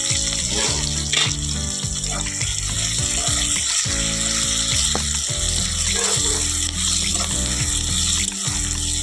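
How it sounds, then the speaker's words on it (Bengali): Onions hit hot oil and fry with a loud, continuous sizzle for a potato-and-goat-meat curry, close up, with stirring and clattering utensil sounds throughout. "তেল গরম হয়ে গেছে পেঁয়াজটা দিয়ে দিলাম পেঁয়াজটা এবারে ভালো করে লাল করে ভেজে নিব"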